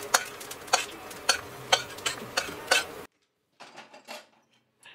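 Fenugreek seeds dry roasting in a hot kadhai over residual heat with the gas switched off, stirred in a run of about six crisp, evenly spaced scraping strokes, then a brief silence and a few softer scrapes near the end.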